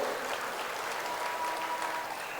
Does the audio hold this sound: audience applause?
yes